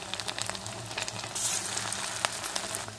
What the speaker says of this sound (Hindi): ଏହାକୁ ଆପଣ ହାଇ ଫ୍ଲେମ୍ରେ ବିଲକୁଲ ଛାଣିପାରିବେ